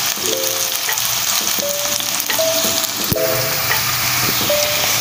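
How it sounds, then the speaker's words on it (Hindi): Onions browning in a pan for a black chana masala dish, a steady close sizzle and crackle of frying with occasional stirring clinks, no voices. "ये हमारी प्याज ब्राउन हो रही है।"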